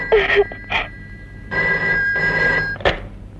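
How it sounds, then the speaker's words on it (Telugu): A telephone rings inside a house: loud, clear bursts of electronic ringing, two short rings followed by a longer sustained ring and a brief final chirp, with no talking. "అదిగో ఇంట్లో ఫోన్ మోగుతుంది"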